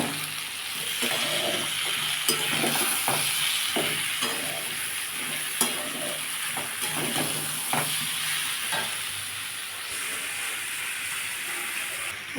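Pumpkin curry with a little sugar is stirred and sautéed in a pan for a Bengali pumpkin and prawn dish, a steady close sizzle broken by scraping strokes of the spatula.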